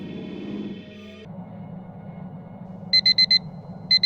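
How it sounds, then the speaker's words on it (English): Quiet low hum, then a video game alarm clock beeps sharply in a quick burst of four pips, followed by another pair starting. "The alarm buzzed."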